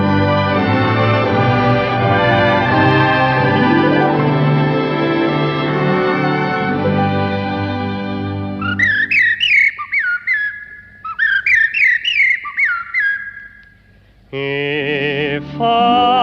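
A British music hall singer and professional whistler whistles a music hall tune, with a long sustained accompanied passage followed by bright, trilling whistled phrases in short bursts, loud and close with no talking.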